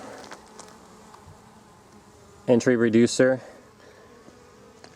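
Honeybees hum steadily around a beehive with bees gathered on the ground, a soft continuous buzz running throughout while a person talks briefly midway.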